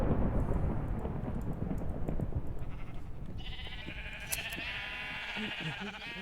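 Sheep bleat in Minecraft, short electronic-sounding calls over a dense, rumbling background noise that holds steady throughout.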